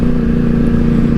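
A 2012 Yamaha R1 sport motorcycle engine runs in a steady, loud, close drone with a low, even hum and no revving swell, and no voices.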